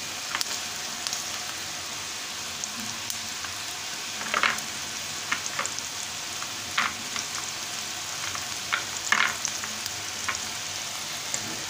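Butter frying in a pan for tilapia curry, a soft steady crackling sizzle with scattered louder pops, close and continuous.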